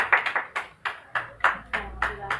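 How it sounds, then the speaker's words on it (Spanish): Classroom group clapping together for a presenting group, a sequence of sharp, separate claps falling in an uneven rhythm, fairly close and moderately quiet. "vamos a dar un aplauso"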